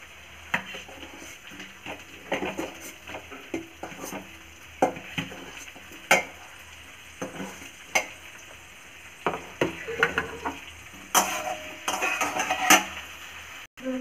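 Stems stir-fry in a pan with garlic, ginger and spices, giving a continuous sizzle broken by repeated sharp scrapes and clacks of a spatula against the pan at an uneven rhythm.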